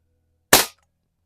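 A single sharp shot from a Crosman Model 1 .22 caliber pump pellet gun fired in a garage, a short loud crack that dies away quickly in otherwise silent surroundings.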